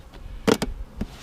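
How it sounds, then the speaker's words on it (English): Honeybees from a newly installed package in a hive, brief buzzy bursts close by against a quiet background. "Oh yeah, the mass of bees under there."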